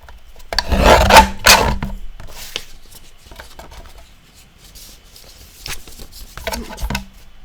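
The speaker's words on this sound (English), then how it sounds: "Trim off the bottom near the blue edge as well." Scissors or a blade trim the edge of a paper page for a junk journal, with two bursts of rasping cuts and rustling separated by a quieter pause, close and fairly loud.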